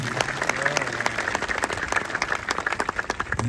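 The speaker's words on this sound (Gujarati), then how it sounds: "એની માટે એક વખત જોરદાર તાળીઓ થાય" Crowd applause at a political rally speech in Rajkot, Gujarat: loud, dense clapping from many hands, sustained and close throughout, with some crowd noise mixed in.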